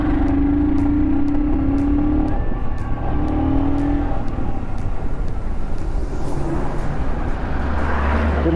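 Busy Indian road traffic with many trucks heard from a motorcycle, with loud continuous engine rumble, horn-like tonal blasts early on, and vehicles passing close by, no talk over it.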